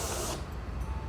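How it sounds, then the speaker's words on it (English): Reddi Whip sweet foam sprayed from an aerosol can into a cup of coffee: a short, close pressurized hiss lasting about a third of a second, followed by quieter sputtering. "I'm gonna go a little deeper so that way it sprays into the coffee"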